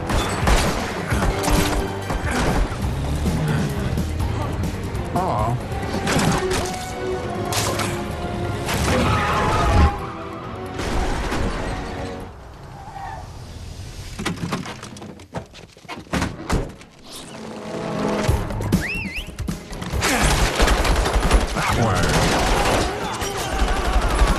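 Gunfire in a Spider-Man spin-off shootout at the docks, with dense bursts of shots and heavy impacts filling the scene, mixed with score and brief shouted voices.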